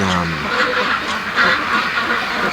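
Free-range ducks quack frantically in a loud, overlapping chorus, agitated by a nearby predator, with steady calls continuing throughout.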